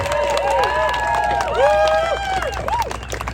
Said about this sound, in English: Louder, louder, cheer and clap.